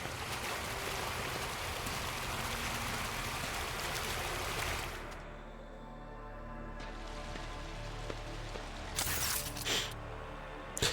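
Steady rushing water pours during an ablution in the video game Warhammer 40k: Rogue Trader. It is a constant, moderately loud flow that thins out midway, followed by a few brief splashy bursts near the end, with no speech.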